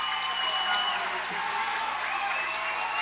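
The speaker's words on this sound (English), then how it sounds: "Crowd getting fired up here for Dylan Roca." Crowd cheering and applauding at a boys high school basketball game, a steady wash of noise from the stands sustained throughout, with a commentator talking over it.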